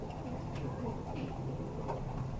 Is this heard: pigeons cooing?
yes